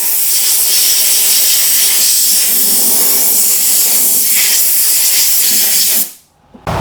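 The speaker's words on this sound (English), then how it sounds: "I will air blow all the dirt here from the drive system." Compressed air blasts dirt off the drive system of a Toro Recycler self-propelled lawn mower, a loud, steady, close hiss lasting about six seconds before cutting off abruptly, with no voices.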